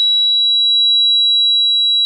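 Internal siren of a police alarm on a home security system, sounding as a loud, steady high-pitched electronic tone held without a break, alone and close.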